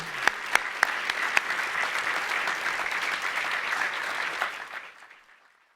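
An audience applauds at a school board meeting, dense steady clapping with a few sharp nearby claps at the start, fading out near the end.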